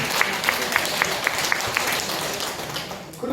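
A church audience applauds in a thick wash of clapping, with a run of sharp, evenly spaced claps standing out at first before the sound thins out.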